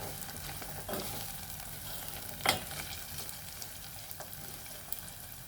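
Green chillies and chopped beans fry in a pan over a medium-low flame, giving a continuous close sizzle broken by a few scraping clinks of stirring.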